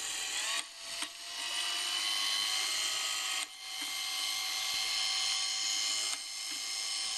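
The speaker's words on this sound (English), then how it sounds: "Now I'll give it power again and you can see what that does." A small gear motor drives a Geneva wheel mechanism with a steady, continuous mechanical whir, broken by brief dips and soft clicks at intervals. No one speaks over it.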